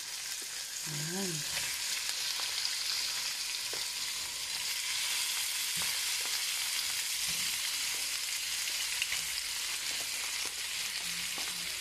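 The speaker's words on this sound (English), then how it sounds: "Fry it until it turns brown." Pork sizzles and fries steadily in a pan with caramelized onion, a loud continuous crackle throughout with a few faint utensil taps and a brief voice near the start.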